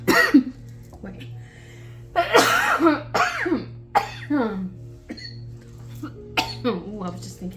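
A person coughs several times in short, sharp bursts over a steady low hum, with quieter throat sounds between the coughs.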